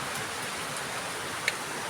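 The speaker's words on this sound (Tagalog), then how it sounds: "Lakas talaga ng ulan." Heavy rain pouring steadily outdoors onto a flooded street, a dense continuous hiss without pauses, with one brief faint tap near the end and no voices.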